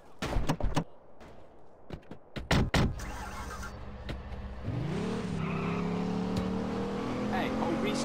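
A car in the GTA San Andreas video game, with sharp knocks and impacts at first, then an engine revving up and holding a steady drone; people talk over it.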